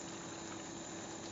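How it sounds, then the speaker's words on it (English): Strawberry jam bubbles at a rolling boil in a pot, a dense, continuous bubbling hiss heard close and steady, with no voices. "let's turn that back up to keep it at a rolling boil."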